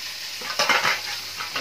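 Fish sizzles softly in a frying pan in a village kitchen, a gentle hiss with a short louder burst of spitting oil partway through, close by with no talk.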